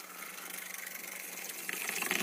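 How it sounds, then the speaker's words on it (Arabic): A liter of water is poured into a blender already holding pineapple, celery, kiwi, cucumber, lemon and ginger for a juice blend. The close, steady splashing hiss swells slightly toward the end. "نزود بقى لتر ميه"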